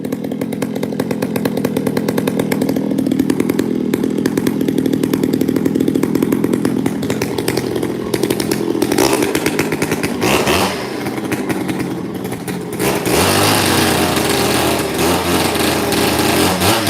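A power saw runs loud and close, its two-stroke engine buzzing steadily before the revs shift and surge in the last few seconds.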